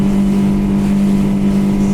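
A Highfield 560 Sport boat's outboard engine runs hard at about 6,000 RPM near 30 knots, a loud, steady, even drone that holds for the whole stretch with no talk over it.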